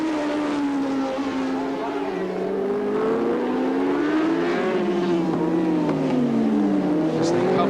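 A Kawasaki racing motorcycle in a 1988 600 cc race accelerates down the straight with a loud, close engine whine that rises and falls through the gears. Other bikes and race commentary sound underneath.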